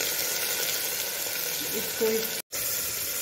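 Finely chopped onions sizzling in hot oil with cardamom, black cardamom, cloves and cinnamon, a soft, steady frying hiss with faint stirring, briefly cut by a short dropout, as a voice speaks a word.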